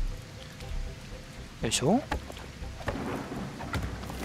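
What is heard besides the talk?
thunderstorm with rain in video game Sengoku Dynasty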